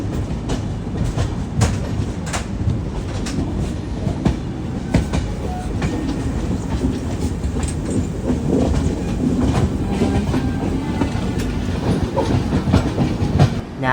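The Thiruvananthapuram North–Mysuru Express rolls into Mysuru Junction with a steady, loud rumble of wheels on track and a continuous clickety-clack of coaches, heard from on board throughout, with no talking.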